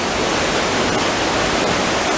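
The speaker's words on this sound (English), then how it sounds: "This is actually the Sutherland River that these falls are on" A waterfall on the Sutherland River in Nova Scotia roars as a loud, dense, unbroken rush of falling water that fills the whole clip evenly, with no voices.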